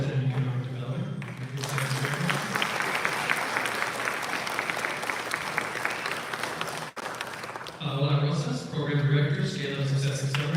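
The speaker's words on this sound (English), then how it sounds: "So please join me in giving a round of applause as I introduce them." An audience at a graduation ceremony claps in sustained applause for several seconds, bracketed by someone speaking through a microphone before and after.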